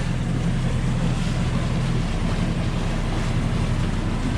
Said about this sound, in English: So we're motor sailing, have the jib out.